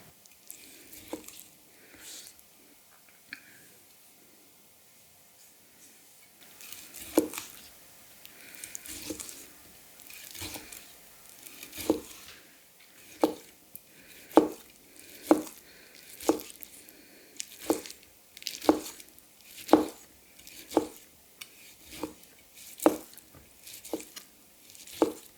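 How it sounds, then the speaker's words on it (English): A Shibui Damascus gyuto kitchen knife rock-chops on a cutting board, starting with sparse soft taps, then settling into a steady, quickening rhythm of crisp close strikes. "Now, why do I always try to rock chop? I hate rock chopping."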